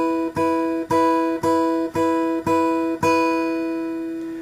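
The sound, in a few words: fingerstyle guitar eighth-note pattern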